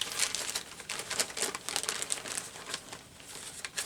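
Close paper handling while cutting paper for a collage in a junk journal: crisp crinkling rustles and snips come in quick irregular bursts throughout, with no voice.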